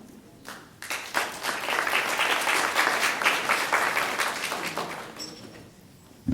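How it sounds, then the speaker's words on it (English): A crowd breaks into steady applause that swells quickly, holds for several seconds, then thins out toward the end. "If we can give Tammy just another round of applause, please."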